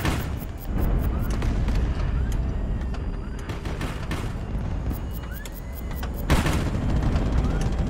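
Rapid gunfire and heavy cannon booms from naval airship combat in the HighFleet game, dense overlapping shots throughout with a louder burst near the end.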